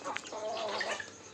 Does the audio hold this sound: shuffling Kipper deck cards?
no